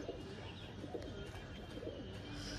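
A pair of short-sized pigeons, a male and a female, coo softly and faintly, with a few low repeated cooing calls over a quiet background and no speech.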